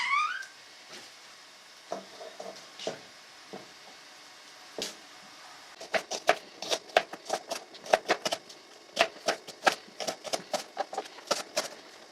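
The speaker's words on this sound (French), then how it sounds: "Pendant ce temps, on va couper les oignons." Onions chopped with a knife on a board, a few scattered cuts at first, then a quick, regular run of sharp, close chops.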